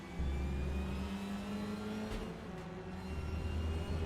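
A Honda Civic TCR race car engine in the Raceroom racing game at the Assen circuit drones at steady high revs, then briefly changes pitch mid-lap before holding again, loud and continuous with no voices.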